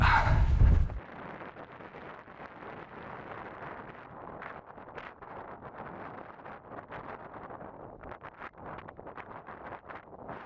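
Wind blows steadily across an open coastal hiking area at Hovs Hallar in Sweden, a continuous rushing buffet on the microphone after a brief louder gust at the start.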